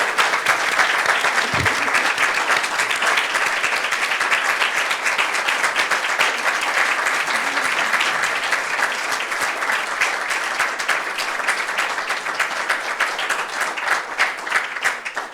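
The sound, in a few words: audience applause for panelists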